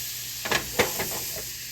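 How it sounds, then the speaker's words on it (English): Butter sizzles in a skillet, a steady bright hiss broken by a few soft clicks and scrapes of stirring. "I'm going to put a little butter here in this skillet."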